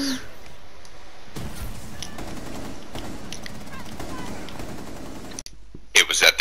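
Rapid bursts of gunfire from Rainbow Six Siege, a player spraying through walls to wall-bang enemies, crackle in quick runs under some voice chatter, ending in a sharper, louder burst.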